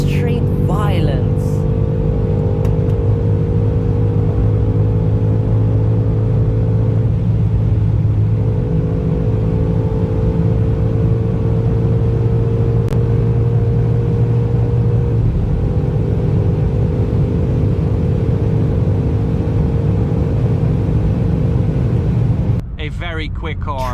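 A 2025 BMW M5 G90, a 2,500-kilo car, runs flat out toward its raised speed limiter, producing a loud, sustained engine and road drone that holds steady for a long stretch before cutting off abruptly.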